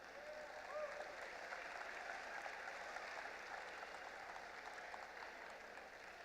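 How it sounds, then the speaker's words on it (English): Faint, distant clapping from a crowd honoring volunteers at a FIRST youth robotics event, an even wash of applause lasting several seconds with a low murmur beneath. "So big round of applause for our volunteers."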